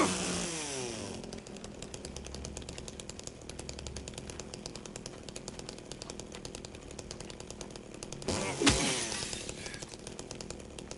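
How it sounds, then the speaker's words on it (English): A chainsaw in Silent Hill 2 Remake revs up and runs in a loud, steady buzzing drone for about eleven seconds, with a sharp revving surge and clatter near the end. "And being that we are on New Game Plus, I get a chainsaw."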